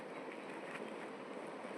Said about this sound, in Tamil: அங்கே ட்ரெயின் நிற்கிது.